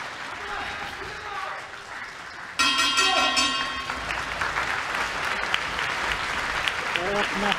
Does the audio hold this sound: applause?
yes